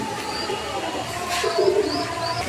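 A pair of red Bombay pigeons gives soft, low cooing calls, close by, over a faint background hum.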